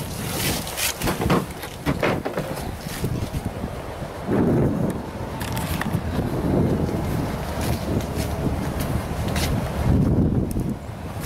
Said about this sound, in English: The wind is pretty crazy.